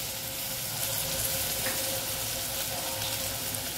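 Potatoes, green beans and whole spices sizzle in a pan for veg pulao, a steady, dense frying hiss that runs without a break.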